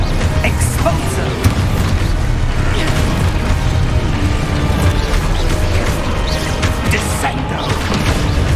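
Spell explosions from the Expulso charm in Hogwarts Legacy, a dense run of booming blasts and crashes layered over continuous loud game combat, with no pauses between hits.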